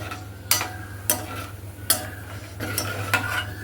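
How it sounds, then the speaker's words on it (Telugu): Peanuts toast in a pan on a low flame for a catering-style tindora fry, with four or five sharp spatula scrapes against the metal over a soft, steady sizzle. "ఇప్పుడు స్టవ్ సిమ్లో పెట్టుకొని పల్లీలు కూడా వేపుకోవాలి"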